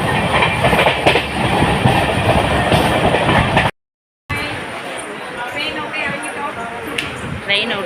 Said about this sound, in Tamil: ட்ரெயினில் ஏறி கிளம்பியாச்சு.